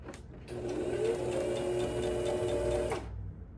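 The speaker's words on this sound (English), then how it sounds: "Once you hear the motor running and you're stitching away" A Brother ST531HD sewing machine motor whirs steadily for a few seconds with a fast, even stitching hum, then stops; a quiet room surrounds it.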